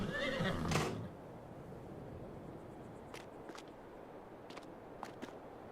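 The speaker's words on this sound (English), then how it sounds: "So you can go out, have your little horsey thing." A horse neighs in Farming Simulator 22, a loud whinny in the first second, followed by quieter ambience with scattered light ticks and clip-clop taps.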